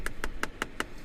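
Five evenly spaced light taps on plastic steering wheel trim inside a Porsche Cayenne, crisp and close in a quiet cabin, each a short hollow click.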